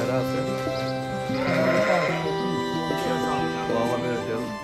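Sheep and goats bleat repeatedly at a livestock market, several close, loud calls overlapping one another while people talk in the background.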